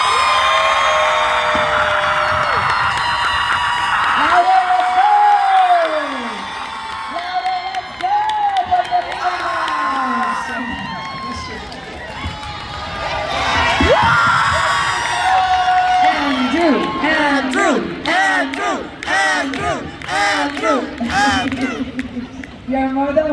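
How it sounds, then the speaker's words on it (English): A convention panel audience cheers, whoops and yells together in a loud, sustained burst of crowd noise, rising and falling in waves, with a voice speaking over it in places. "Everybody if you guys yell. could just cheer at the count of 3."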